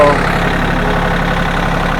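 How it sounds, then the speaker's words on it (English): A tractor engine running steadily at idle, a loud close droning chug that holds constant from start to finish with no voices. "I'll get the tractor rolling"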